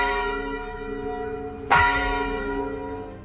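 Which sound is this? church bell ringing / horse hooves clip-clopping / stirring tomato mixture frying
church bell ringing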